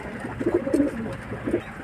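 Teddy pigeons coo softly nearby in a few low, rolling bursts, close and moderately loud with no talk over them.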